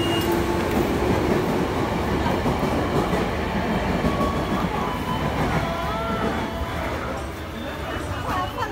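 A KRL Commuter Line electric train in Jakarta rumbles loudly and continuously with wheel clatter and faint squeals, while people talk close by.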